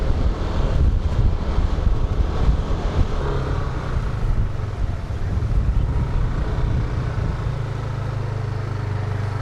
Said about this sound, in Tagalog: pero sobrang lakas pa rin ng hangin dito.